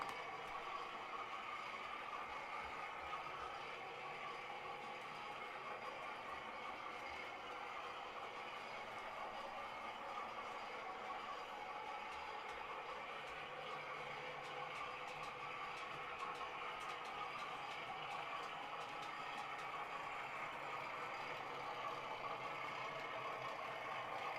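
A model Class 31 locomotive runs on a layout with a steady, faint rolling hum and light rhythmic clicking of wheels over track joints, continuous and unchanging, with no talking.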